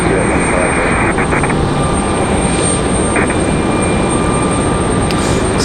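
A Delta Boeing 737 airliner on the runway at Raleigh-Durham, a loud, steady engine rumble and whine close by, with a faint high tone throughout and no clear talk.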